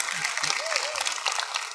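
An audience applauds in a short burst of dense clapping that fills the space, with a few faint voices mixed in.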